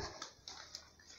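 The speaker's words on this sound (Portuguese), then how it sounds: "Eu tenho um pug." A pug dog whimpering indoors at home, faint and brief, with a few soft whines and yips in quick succession.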